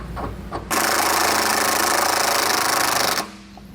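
A wrench runs down the nylon lock nuts on a Stealth Hitches hidden receiver mount on a 2022 Audi Q8: one loud, rattling mechanical burst of about two and a half seconds, framed by quieter workshop ambience.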